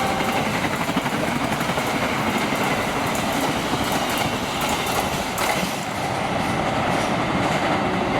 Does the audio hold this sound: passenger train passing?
yes